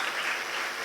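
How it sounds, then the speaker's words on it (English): Applause at a youth investment and financial literacy awards event, a continuous, fairly loud burst of clapping lasting under a second. "Yes, keep clapping, keep clapping."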